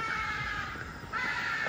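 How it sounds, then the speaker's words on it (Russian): Loud, harsh screeching calls from parrots in a park, two sustained cries separated by a brief dip, close and continuous over outdoor ambience with no talk. "Попугаи так кричат."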